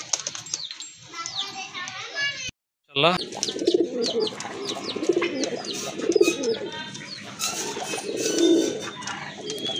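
Large Rajgolla pigeons coo repeatedly in low, rounded bursts, with someone talking over them and children and other birds chirping in the background.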